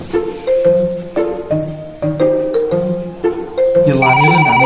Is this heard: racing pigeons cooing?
no